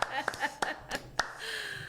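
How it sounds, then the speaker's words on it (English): One person claps their hands a handful of times during a talk, producing sharp, close, separate claps at an uneven pace, with speech mixed in between them. "Can you permit me to clap?"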